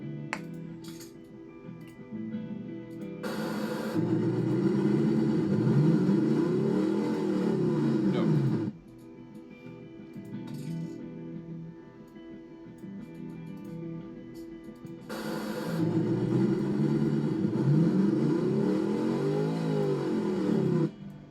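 An ETK ttSport V8 LMH engine in the BeamNG driving game revs hard in two long bursts, its pitch sweeping up and down, with a rougher idle between them.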